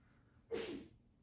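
A single sharp sneeze bursts out nearby, brief and breathy, against a quiet background.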